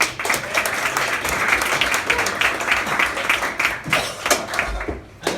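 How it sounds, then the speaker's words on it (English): A stand-up comedy audience applauds the kitchen and bar staff. The clapping is dense and sustained from a crowd close by, with faint voices mixed in. "Let's have an applause for the staff here on the bar."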